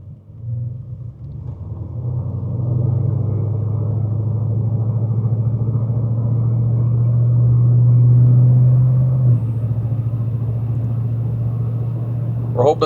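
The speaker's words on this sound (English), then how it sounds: "Big truck, but it'll do a U-turn." A 1976 Chevrolet Silverado C20 crew cab with a 454 V8 rumbles through a slow U-turn, its deep steady engine drone swelling and easing from inside the cab, with little else heard.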